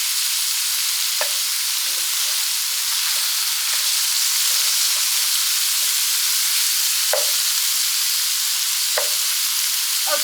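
Vegetables softening in a pan for dirty baked beans give off a steady, even sizzle that carries through the whole clip, broken by a few faint clinks of a utensil, with no voices.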